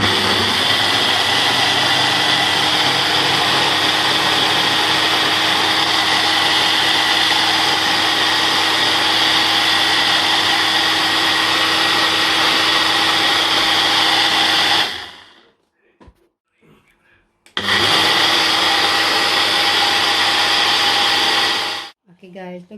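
A blender whirs loudly and steadily, mixing raspberry, banana, milk and ice cream into a vanilla milkshake. It cuts off for a couple of seconds, then runs again briefly before stopping.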